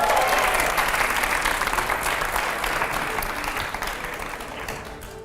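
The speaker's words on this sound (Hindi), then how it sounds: "जोरदार तालियां" Loud audience applause at a film-industry interview event with actress Taapsee Pannu and editors, a thick wash of clapping that starts strong and gradually tapers over about five seconds.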